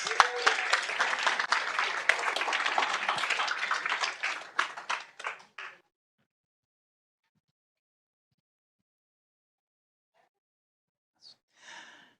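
Applause from a school board meeting audience, dense clapping mixed with a few cheers for about five seconds, thinning out and stopping, then near silence with a brief faint noise at the end.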